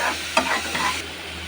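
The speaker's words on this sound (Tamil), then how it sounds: "சால்ட்டு போட்டுட்டு நம்ம வறுத்துட்டு மூடி வச்சிடலாம்" Mutton head curry with salt is stirred and fried in a pan: a steady close sizzle with a quick scraping stroke near the start and a softer one after, no voices.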